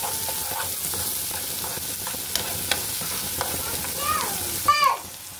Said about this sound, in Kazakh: Оған тұз салып, сосын қуырамыз.